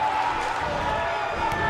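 A wrestling crowd cheers in a steady, loud roar, with a commentator's voice talking over it.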